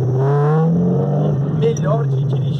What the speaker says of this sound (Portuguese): O carro é essa Ferrari 308, né, a GT4